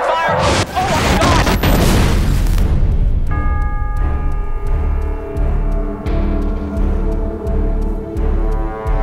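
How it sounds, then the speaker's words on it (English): Loud booms and crashing blasts from UFOs opening fire on New York in a sci-fi film trailer, a dense roar of explosions for about three seconds, then dramatic orchestral music with sustained tones over rumbling low hits. "Witnesses claim to have seen hundreds of UFOs. It's opening fire!"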